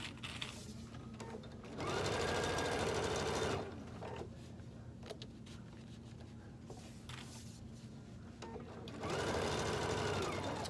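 A sewing machine stitches a cork handbag in two steady motorized bursts of about two seconds each, separated by quieter handling noise, close and clear with no talk.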